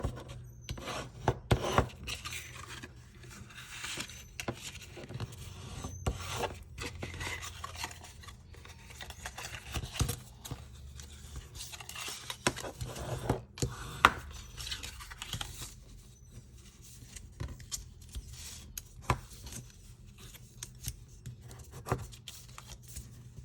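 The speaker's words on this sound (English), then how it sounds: "I'm just going to burnish all of these down." Paper folds on a Christmas treat box are burnished down with a tool, giving soft, irregular rubbing and scraping strokes, close and quiet, with short pauses between bursts and no talking.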